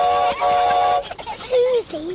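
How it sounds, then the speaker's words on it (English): A cartoon elf train bound for Santa's grotto gives a bright whistle toot, then animated character voices briefly follow. "All aboard the elf train."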